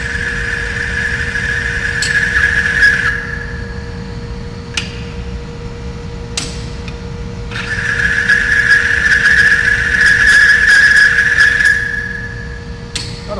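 A grease test rig loads a bearing toward metal-to-metal lockup, giving a steady mechanical hum under a high, shrill squeal that rises twice, with sharp metallic knocks and clanks in between.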